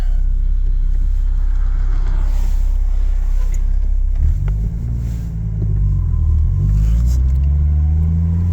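A Vortec 4200 engine swapped into a Jeep Comanche idles with a deep, loud rumble, then revs up into a rising, throaty roar that rises and falls in pitch as the throttle is blipped.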